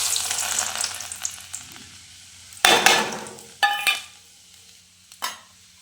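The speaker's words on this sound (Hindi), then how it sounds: "तो गाइस ये देखिए अब मेरा लगेगा तड़का।" Tadka tempering for a potato, onion and okra sabzi sizzles loudly in a pan, with a steady fry broken by three sharp hissing bursts as ingredients hit the hot oil, no voices.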